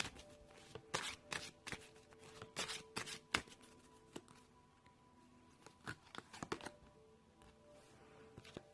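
Tarot cards are shuffled in a quiet room, with irregular crisp riffles and soft card slaps close by, without talking.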